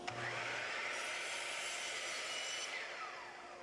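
Power saw cutting small wood pieces at a 15-degree angle for a craft project, a single faint whirring cut lasting about three seconds that winds down at the end, with no talking.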